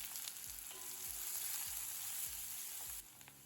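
Steady, busy sizzling of onions sautéing in hot oil with cumin and dried red chili fills the clip, with soft rhythmic stirring scrapes and no voices.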